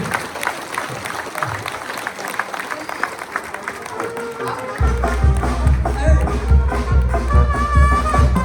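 Applause from an audience at a municipal presidential changeover ceremony in San Juan Mixtepec, Oaxaca, scattered clapping that swells into a fuller burst midway with low drumming beneath, heard from within the crowd.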